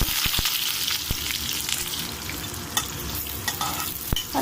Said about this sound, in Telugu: ఆనియన్స్ వేసుకుంటున్నామండి